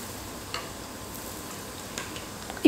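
Rice and wheat flour batter frying in hot oil for a sweet tea-time snack, a soft continuous sizzle with faint crackles and a few light ticks, closing on a brief louder clatter.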